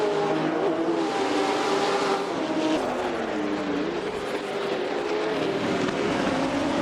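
A Ferrari 206 Dino race car circles Oulton Park in a 1966 British Sportscar Championship race, its engine droning loudly and steadily at a distance, rising and falling slightly in pitch, with no talking.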